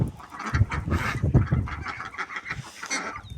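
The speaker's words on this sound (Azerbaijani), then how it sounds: "Hinduşka da girişdi söhbətə." Poultry including a turkey, geese or chickens call in a farmyard, with several loud, close honking and gobbling bursts overlapping in an irregular chatter throughout.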